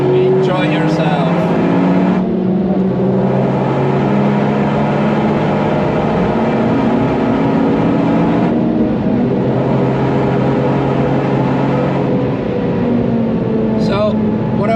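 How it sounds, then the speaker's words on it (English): Steady in-car engine drone from a Toyota GR Yaris on track as a Porsche GT3 RS comes past, revs rising and falling across gear changes, loud and continuous with a driver talking over it. "nice GT3 RS behind me that I'm going to let past."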